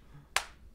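A single sharp hand clap, close and crisp, standing alone against a quiet indoor background.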